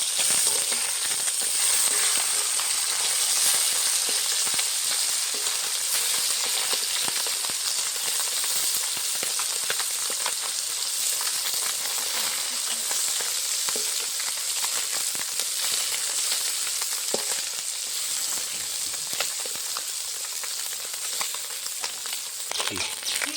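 Small puti fish fry in hot oil in a pan, giving a steady, bright sizzle with crackling pops that continues unbroken throughout.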